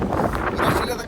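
Strong gusty wind blows outdoors near a cathedral in Minnesota, buffeting the microphone with a brief, loud, rushing roar.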